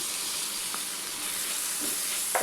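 Onions sauté in a pan with coriander and curry leaves as a steady, close hissing sizzle runs throughout, with a few soft spatula taps near the end and no talking.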